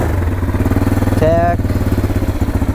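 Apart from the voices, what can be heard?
2006 Bombardier DS650X ATV engine starting and running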